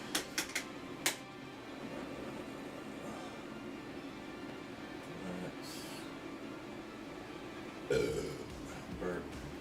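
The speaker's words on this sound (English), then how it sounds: "Burp." A single short burp rises loud and close against steady room noise, followed by a second softer rumble a moment later.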